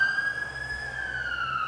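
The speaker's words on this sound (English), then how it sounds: "Wow, that ambulance is so damn loud." A loud ambulance siren passes close by, holding a steady, piercing wail that drifts slightly lower in pitch toward the end, with no talking over it.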